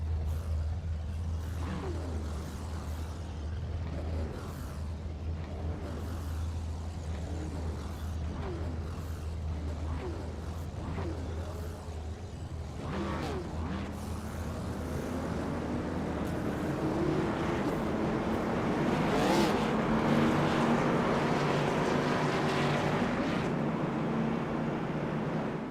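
ARCA race cars pull out onto the track at Dover, a steady engine drone that builds and swells louder in the second half as more cars roll past, with no talking.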